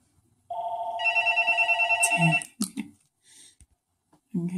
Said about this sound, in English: Phone calls. Never sometimes know when people are going to call.